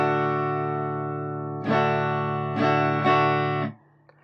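Guitar strummed for a beginner rhythm exercise: a held chord rings, followed by three further strums in a steady pulse, then stops abruptly. Close, clean and alone with no talking.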